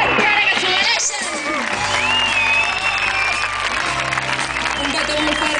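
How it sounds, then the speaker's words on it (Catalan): An audience applauds and cheers for musicians at an outdoor festival show in Castellar del Vallès, clapping sustained with whoops and crowd voices, while a host talks over it. "Un aplaudiment, per favor!"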